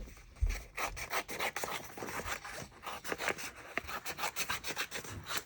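Paper is trimmed for a Dutch door travel journal spread, giving close, repeated rasping and scraping strokes in a quick, uneven rhythm with no talking.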